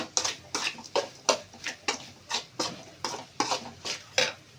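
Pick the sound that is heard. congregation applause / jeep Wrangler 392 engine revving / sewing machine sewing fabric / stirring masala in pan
stirring masala in pan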